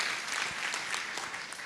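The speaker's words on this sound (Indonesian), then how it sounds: "Berikan tepuk tangan yang merepot." Congregation applause during an Indonesian church sermon, a sustained wash of many hands clapping in a large hall, even and fairly distant with no speech over it.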